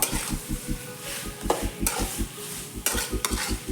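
Frying in a pan with rock salt for dum biryani: quick rhythmic scraping strokes of a spoon against the pan over a continuous sizzle, close and loud, with a few sharper clinks.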